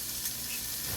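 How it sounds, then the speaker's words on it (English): Pork jowl (guanciale) sizzling in a hot pan, a soft continuous hiss and crackle of frying fat heard close but fairly quiet, with no voices. "I'm going to put those in the hot pan. Put that, sizzle, sizzle, sizzle."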